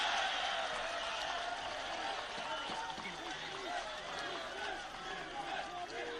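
A crowd roars in a broad, sustained wave at a men's NPL NSW football match after a penalty goal, with a commentator talking over the cheering.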